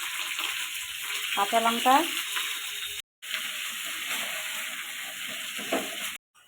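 Chopped capsicum, onion and tomato sizzle steadily in a hot pan with cardamom and cloves, a continuous broad frying hiss with brief stirring scrapes and a short gap partway through.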